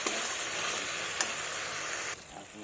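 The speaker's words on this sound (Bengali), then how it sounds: "আমি অল্প পরিমাণে চিনি দিয়ে দেব দিয়ে ভালোভাবে নাড়াচাড়া করে নেবো" Cucumber and sugar sizzle steadily as they are stirred in a hot frying pan, a dense continuous frying hiss with a couple of soft spatula scrapes, which drops slightly quieter near the end.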